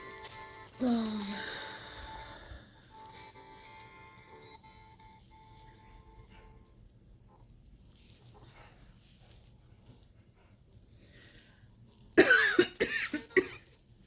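A hospital patient recovering from overdose complications with a sore chest, coughing in a short burst early on and again in a harsher cluster near the end, over quiet room hum.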